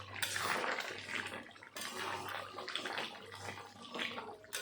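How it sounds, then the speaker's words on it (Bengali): A pot of boiling jackfruit and prawn curry (echor chingri) is stirred, giving a steady, close, wet bubbling and sloshing that carries on with brief dips. "এখন আবার ভালো করে নাড়া দেব।"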